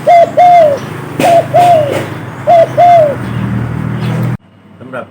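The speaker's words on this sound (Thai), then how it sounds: "มาชวนคุยเสียงขัน เสียงเรียกหรือเสียงคูนกเขา" A dove coos in three rhythmic phrases of two to three notes each, loud and close, against a low background hum.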